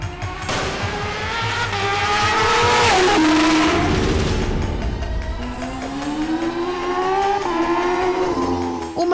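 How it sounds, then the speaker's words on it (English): A supercharged Kawasaki H2R superbike speeds past with a loud, rising and falling engine whine that swells, dips and climbs again over several seconds. "Is the Kawasaki H2R, reputed to be the fastest production bike on the planet right now."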